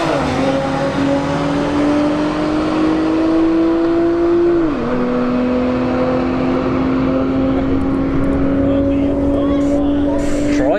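A Nissan 370Z and a Subaru run a street drag race at a motorsports park, their engines a loud sustained drone with a clear pitch shift partway through, under announcer-style talk over a public address.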